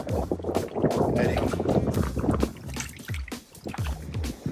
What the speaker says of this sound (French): je cause de près parce qu'il y a beaucoup de vent